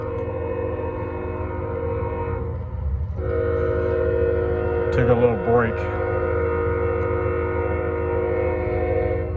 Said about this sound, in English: Northbound 154. First train I caught in like a full day.